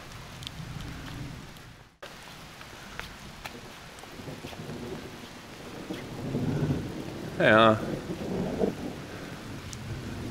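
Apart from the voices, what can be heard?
rain falling with thunder at Oropa sanctuary, Italy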